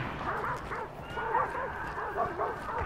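A dog in the video game Hunt: Showdown yips and whimpers steadily against a dense in-game ambience. The sound runs continuously at a moderate level for a few seconds.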